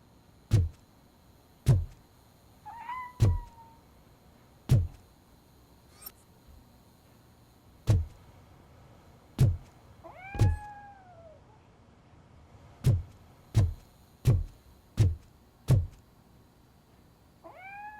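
A cat meows in RoboCop: Rogue City. Two or three clear, rising-and-falling meows stand out among repeated sharp, evenly spaced thuds, like footsteps, against a quiet background.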